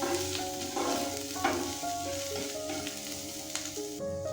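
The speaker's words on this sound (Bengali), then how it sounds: "সবকিছুকে একসাথে খুব ভালোভাবে ভেজে নেব।" Carrot, onion and capsicum fry in a pan with garlic and green chili, giving a steady, close sizzle throughout with occasional stirring scrapes and clinks, and no voices.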